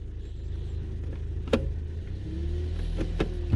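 A 2010 Toyota Yaris automatic with 246,000 miles idles with a low, steady engine hum while the gear selector is moved, with a few soft clunks from the shifts.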